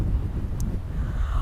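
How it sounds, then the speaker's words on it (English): Strong wind buffets the microphone with a constant low rumble and roar throughout at the Mangere foreshore bird refuge in New Zealand. "And it's very, very windy."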